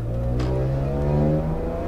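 A BMW M3 E92 GTS engine revs hard under acceleration, a loud rising rear-drive V8-style howl heard from inside the car over about two seconds, with no voices.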